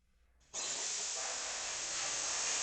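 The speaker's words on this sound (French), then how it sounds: "Et vous voyez, Karine passe tout simplement la vapeur sur le masque." Steady, loud hiss of a steam cleaner gun jetting vapour onto a plastic mask, starting abruptly after a brief quiet moment and continuing unbroken and close.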